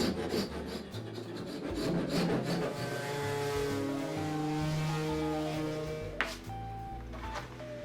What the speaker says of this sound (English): Just a quick scrape the gluing area.